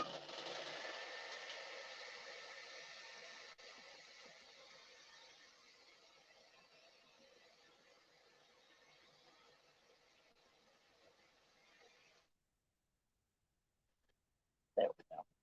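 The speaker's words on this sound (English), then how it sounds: "Pulling out the hair dryer. Sorry for the noise." A hair dryer runs steadily as a loud broadband whoosh that slowly fades over about twelve seconds and then cuts off, leaving near silence before a couple of brief clunks at the end.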